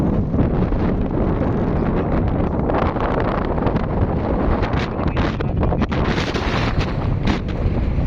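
Strong, steady wind of a sandstorm in Jubail, Saudi Arabia, roars and buffets the microphone without letup, a dense rushing noise with no voices.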